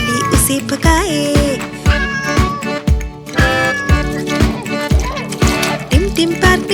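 Cartoon cat meowing repeatedly in a children's balloon rhyme, a series of loud, close, bending meows in quick rhythm over bouncy music, with a monkey pestering the cat.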